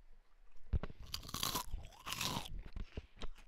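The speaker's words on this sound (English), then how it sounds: "It's pretty good crunch." Flamin Hot Cheetos crunch loudly and close up, bite after bite, in two long crackling chewing bursts followed by softer munching, with no talking.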